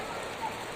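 Rain falls on a pond as a faint, even hiss of drops for a brief moment.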